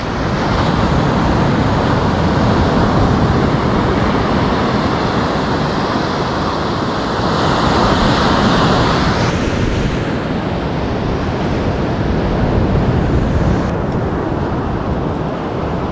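Ocean surf on 90 Mile Beach, a loud, unbroken roar of breaking waves and wash with wind buffeting the microphone, holding steady for the whole stretch.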